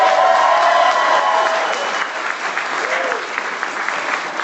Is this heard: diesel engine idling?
no